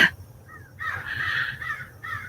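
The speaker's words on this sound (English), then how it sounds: "The crows are like right here, you guys." Several crows caw nearby outdoors in short, harsh calls repeated in a few bursts over a couple of seconds, clear over faint background.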